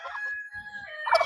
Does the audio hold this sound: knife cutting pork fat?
no